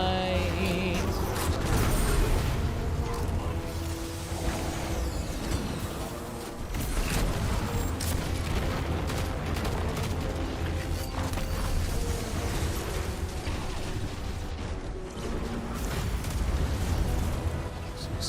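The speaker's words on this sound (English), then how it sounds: "explosions happening" Explosions in the video game Destiny form a dense, loud, continuous barrage of blasts and crackling booms. It runs without pause and layers over other game sounds.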